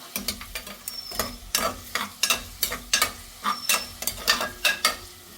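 Onion with crushed ginger and garlic sautéing in a pan for a mutton curry, with a soft sizzle under repeated quick scraping stirs from a spoon, close and fairly quiet.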